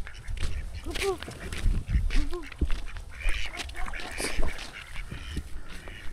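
Several ducks quack repeatedly nearby, their calls mixed with bird chatter, rustling and people talking in the background.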